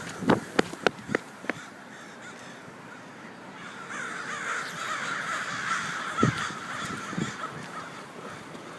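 Crows in a flock caw at an outdoor shopping plaza, a few loud close calls at the start followed by a dense, continuous chorus of cawing from many birds at mid distance.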